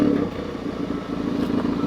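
A stock Hyundai i30N Performance with an aftermarket downpipe burbles with a deep, uneven exhaust rumble close by, steady throughout the short stretch.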